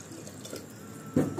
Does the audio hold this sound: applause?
no